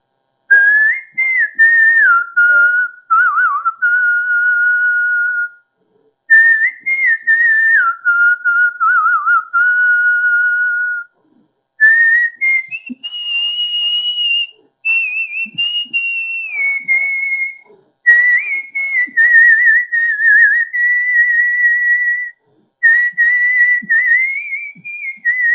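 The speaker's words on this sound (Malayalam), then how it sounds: "കൃത്യമായ ശ്വാസ നിയന്ത്രണത്തിലൂടെ ഗാനങ്ങളെല്ലാം ചൂളമടിപ്പാട്ടുകളായി അവതരിപ്പിക്കും." A man whistling old and new Tamil and Hindi film songs with controlled breath, a clear solo melody in sustained phrases separated by short pauses for breath, close and loud with no other sound.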